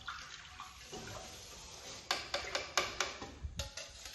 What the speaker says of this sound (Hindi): थोड़ा सा डाल दिया इसमें ठंडा पानी